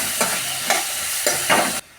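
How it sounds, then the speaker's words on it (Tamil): Tomatoes stirred into a spiced egg curry in a pan, a loud sizzle with several scraping spoon strokes in uneven rhythm, cut off abruptly at the end. "போட்டாச்சு தக்காளியை. இப்போ கிண்டி விட்டோம்."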